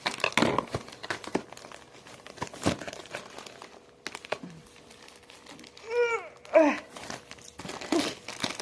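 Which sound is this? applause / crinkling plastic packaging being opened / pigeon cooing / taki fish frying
crinkling plastic packaging being opened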